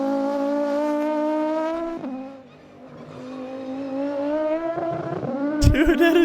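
A 1990s British Touring Car Championship race car's engine screams past at high revs, the pitch dropping as it goes by, then another car approaches and accelerates hard with a sharp burst at the end, heard trackside.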